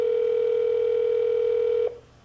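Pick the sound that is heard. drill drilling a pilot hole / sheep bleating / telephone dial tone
telephone dial tone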